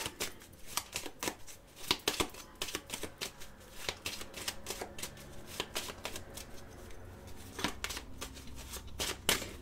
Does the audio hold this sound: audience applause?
no